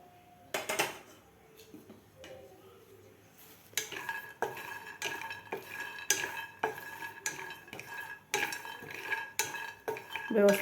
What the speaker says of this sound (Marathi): इथं मी एक पॅन ठेवलेला आहे, त्यामध्ये आपल्याला खोबरं आणि शेंगदाणे भाजून घ्यायचे आहेत।